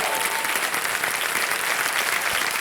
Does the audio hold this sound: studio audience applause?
yes